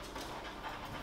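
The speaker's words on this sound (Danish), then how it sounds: "hvis I hører noget støj i baggrunden, så er det bare vores dejlige hund Louis, der lige har travlt med at lege lidt." A dog pants quickly and steadily while playing, a soft rhythmic huffing in the background of a kitchen, faint and continuous.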